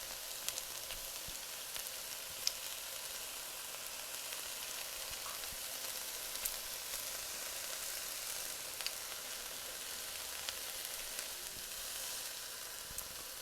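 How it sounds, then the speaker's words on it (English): Onions, peppers and celery saute quietly in a skillet, giving a soft, steady, even sizzle with a few faint clicks and no talking. "I'm going to let these saute for just a couple minutes until the onions become translucent and the peppers and celery begin to soften"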